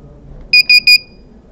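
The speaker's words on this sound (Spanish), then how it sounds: "Ese pitido me indica que fue guardado con éxito." An electric card lock gives three quick, loud, high-pitched beeps in a tight burst, clear and alone against near silence.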